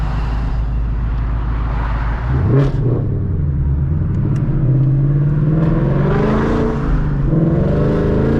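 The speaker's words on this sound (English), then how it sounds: "Wheel spin" A car with a Calimer Stage 3 transmission accelerates hard with wheel spin, its engine droning loudly then rising in pitch as revs climb, a continuous close roar with no talking.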